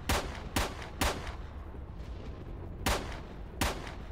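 Sharp, isolated pistol shots in S.T.A.L.K.E.R. Shadow of Chernobyl, five fairly loud cracks spaced irregularly, three in quick succession and two more later, over a steady background hum.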